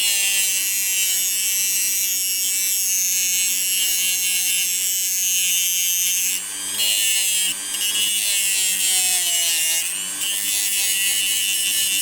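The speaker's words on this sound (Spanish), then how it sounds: "con el disco cortante de la máquina Dremel iremos cortando la parte sobrante" A Dremel rotary tool with a cutting disc slowly trims excess material from an H0-scale model locomotive. A loud, steady high-pitched whine runs throughout, dipping briefly a few times as the disc bites into the part.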